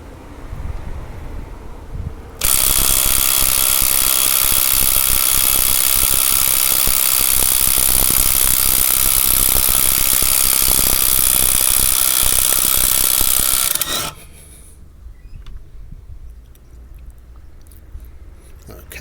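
A Bosch GDX18V-EC hybrid impact wrench undoes a fastener torqued to about 140 Nm, running as a loud, continuous buzzing burst for roughly eleven seconds before cutting off, with quieter handling noise before and after.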